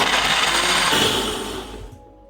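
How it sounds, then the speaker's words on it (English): An electric blender whirs steadily as it blends ginger, garlic, chili, pepper, basil leaves and water, a loud broadband motor roar that holds for about two seconds and then cuts off abruptly into near silence. "so let's blend some ginger, garlic and chili for meat, some pepper, with some basil leaf, add up some water"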